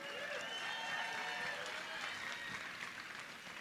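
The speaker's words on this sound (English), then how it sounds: "big round of applause for the ladies." Crowd applause at the 2022 Nissan Super Girl Surf Pro awards, a steady, fairly faint wash of clapping from the audience honouring the women surfers, heard from some distance and without talk.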